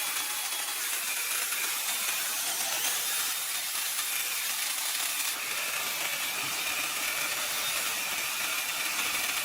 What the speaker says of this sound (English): Running a high-speed rotary sander across the leveled top erases the harsh tool marks, polishing the porous end grain until it is perfectly smooth